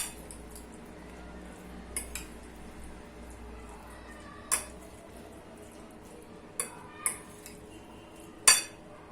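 A freshly made salad being tossed and mixed with utensils, giving a few sparse, faint clinks and taps against a quiet background.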